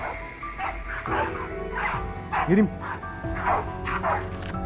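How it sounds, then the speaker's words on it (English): A pack of hunting dogs bark, yip and whimper at a cornered wild boar in rapid, overlapping bursts close by, while someone speaks briefly over the din. "the hound's barking erupted nearby"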